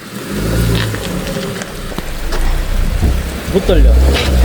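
Steady rain falling in a South Korean village, a loud continuous wash of drops on surfaces with brief louder gusts, heard alone without talk.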